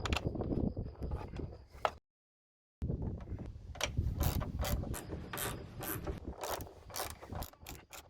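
A ratchet drives Torx T30 screws into trim panels inside a VW T5 van, giving close, rapid clicking bursts with scraping. The clicking stops briefly for a short silence, then resumes in dense repeated runs.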